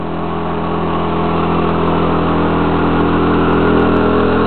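Small 110cc four-wheeler engine running on wood gas, a loud, close, steady putter at a fairly even pace with a slight rise in revs, heard on its own.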